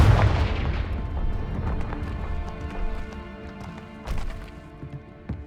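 A Confringo fire spell blasts in Hogwarts Legacy, a heavy booming impact at the start decaying into a ringing tail, followed by lighter thuds and another burst later.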